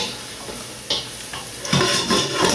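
Chopped garlic frying golden brown in a pan for fresh tomato sauce, a soft steady sizzle with light stirring clinks that grow louder near the end.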